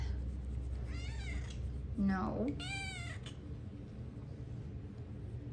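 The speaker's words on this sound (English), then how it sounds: "this is one of my kitties that did not get sick." A house cat meows several times up close, short rising and falling calls over a low steady room hum, with a brief spoken word between them.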